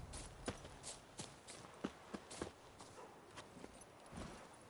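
Hooves of Roach, Geralt's horse in The Witcher 3, clopping in a steady walking rhythm, close and clear over a faint background bed, with about a dozen distinct footfalls.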